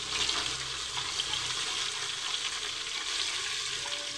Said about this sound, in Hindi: अब हम इसे थोड़ा सा पिंक होने तक इसे भूनेंगे